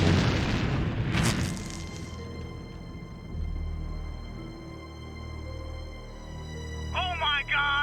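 A rocket blows up in a video game with a loud, booming burst at the start. Droning tones follow, and a short voice-like sound comes near the end.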